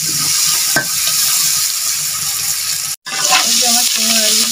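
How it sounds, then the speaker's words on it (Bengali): Shrimp frying with turmeric in a pan, a loud steady sizzle with stirring and scraping throughout, broken by a brief pause near the end before the frying resumes. "একসাথে মাছটা ভালো করে ভাজি করে নিতে হবে।"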